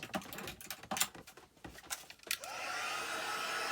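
A heat tool blows hot air to warm something on a mat, a steady broadband whoosh that starts partway through after a few sharp clicks and taps, then holds evenly to the end.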